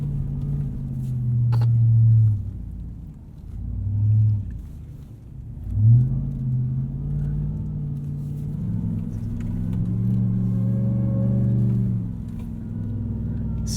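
A 2021 Ram 1500 TRX supercharged pickup drives across sand dunes on aired-down tires, its deep engine rumbling steadily with a few throttle swells and revs.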